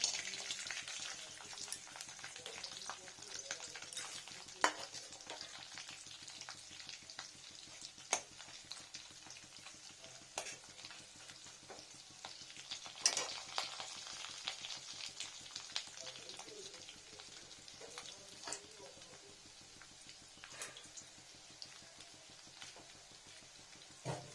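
Lentil dumplings (bori) fry in a five-spice tempering, giving a quiet, steady crackling sizzle with scattered pops and occasional sharper ticks throughout, faint and close.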